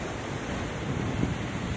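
Ocean waves wash steadily onto the shore at an abandoned beach resort in Cavite, a continuous broad roar of surf mixed with wind buffeting the microphone, with no voices.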